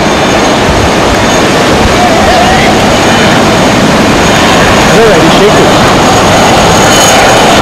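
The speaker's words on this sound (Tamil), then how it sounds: "ஹெலிகாப்டர்" Helicopter flying overhead during tsunami relief in Chennai, a loud continuous rotor and engine roar that fills the scene steadily from start to finish, close and overpowering.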